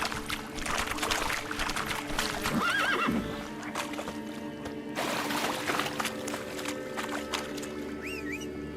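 Roach the horse in The Witcher 3 whinnies twice over steady clip-clopping hooves, with a dense game soundscape of music and ambience running throughout.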